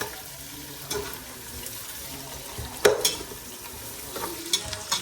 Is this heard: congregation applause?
no